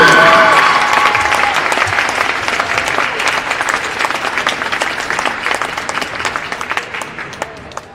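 A crowd cheers and applauds senior cheer, wrestling and swim athletes at a high school basketball game, with loud sustained clapping that slowly fades over several seconds.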